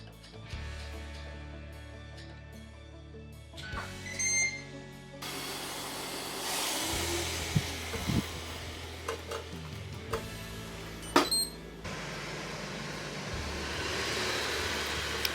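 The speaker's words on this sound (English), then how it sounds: "throw it into the air fryer for a few minutes" Kabanos sausage pieces cooking in an air fryer on air crisp at 390 degrees, a steady fan whir and low hiss with scattered clicks and clunks, fairly close and without talk.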